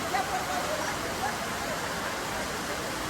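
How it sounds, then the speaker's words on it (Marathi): Heavy rain pouring down at a temple during a Pandharpur Wari pilgrimage, a loud, steady broadband rush with no break. "पाऊस बघा किती आहे."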